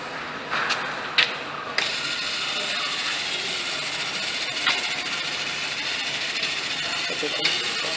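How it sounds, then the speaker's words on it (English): Motor mechanism of a tree climbing robot descending a tree, a steady mechanical whirring and ratcheting drone with occasional clicks, under a person talking. "Let's see how this motor works, how this mechanism or robot works."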